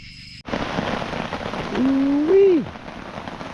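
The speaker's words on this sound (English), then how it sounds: "Rain's coming down." Rain drums steadily on a hammock tarp at a campsite in Little Orleans, Maryland: a dense, close patter that runs throughout, with a brief voice-like tone rising partway through.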